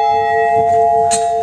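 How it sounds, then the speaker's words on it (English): A bell rung at Friendship Gardens holds one steady, loud, ringing metallic tone, sustained and close, with a faint brighter strike or clatter near the end. "They're ringing the bell at Friendship Gardens."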